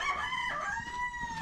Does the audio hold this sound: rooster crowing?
yes